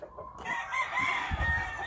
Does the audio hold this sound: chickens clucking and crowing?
yes